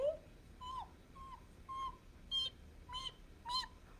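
Hungry baby birds in a nest calling, a series of short high chirps and peeps repeated about seven times, close and fairly faint over quiet background.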